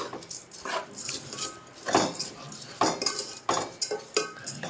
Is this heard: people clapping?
no